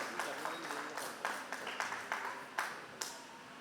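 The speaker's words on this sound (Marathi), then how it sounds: "सगळ्यांनी टाळ्या वाजवून अभिनंदन करायचं." An audience applauds a prize winner at a lucky draw event, a steady wash of clapping with a few sharper individual claps on top, heard at moderate distance with faint voices underneath.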